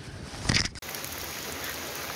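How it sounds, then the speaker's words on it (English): Rain falls steadily outdoors at a Sydney fishing spot, a constant close patter and wash after a short burst of louder handling noise at the start. "Just so you know that it actually is raining"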